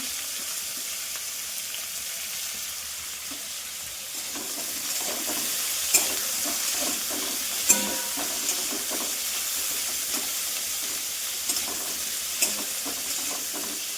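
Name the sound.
vegetables frying in a pan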